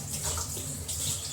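Water is poured into a glass or pot to make tea, giving a brief, steady, splashing rush close by with no talking.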